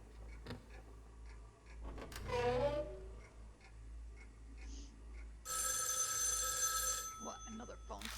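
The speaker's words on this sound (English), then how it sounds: "What, another phone call?" A telephone rings in the horror game Spirit Hunter NG, a loud, dense metallic ringing burst lasting about a second and a half near the end, after an earlier sweeping tone, with faint talk in the background.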